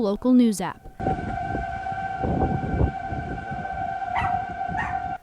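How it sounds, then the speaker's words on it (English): Outdoor tornado warning sirens in Nebraska wail steadily in the background, a sustained tone over windy noise, with a brief voice at the start. "You can hear the sirens blaring in the background of this video"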